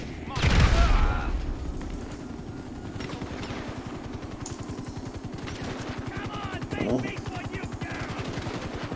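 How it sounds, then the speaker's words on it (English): In Grand Theft Auto 5, a grenade launcher fires and booms loudly near the start, followed by a continuous chopping helicopter rotor and scattered gunfire. "That's a grenade launcher!"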